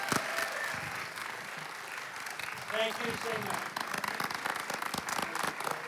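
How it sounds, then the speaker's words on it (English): Audience applause closes an evening event with a guest speaker, a dense crackle of many hands clapping steadily throughout, while a voice speaks briefly over it. "Let's give Mr. Dershowitz a round of applause."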